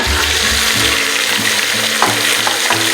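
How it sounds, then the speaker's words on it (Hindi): Beef pieces fry loudly in hot oil with ginger-garlic paste for a qorma, a dense close crackling sizzle broken by stirring scrapes, with no one speaking. "इसके अंदर अब मैं ये गोश्त भी डाल दूंगी"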